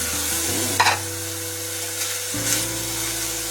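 Onions frying in oil in a pot, a steady sizzle with a constant low hum and a few clinks of stirring, no one speaking.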